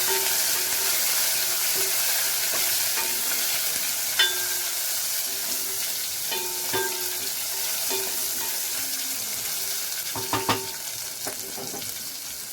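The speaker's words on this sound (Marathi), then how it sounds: "त्यात टोमॅटो, तो पण जरा परतून घ्या" Tomatoes sautéing in a pan for homemade daal, with a steady hissing sizzle and occasional clinks and scrapes of a spatula stirring close by.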